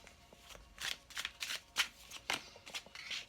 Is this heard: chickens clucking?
no